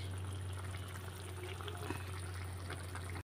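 Water pours steadily into a pot of Filipino pork giniling in tomato sauce with potatoes and carrots, a continuous splashing fill over a low steady hum, no voices.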